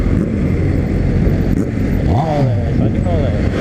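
Several motorcycles, including CB300, Z300 and Ninja 300 models, rev their engines on a beachfront, a rising engine sweep standing out over steady close engine noise and background chatter of people talking.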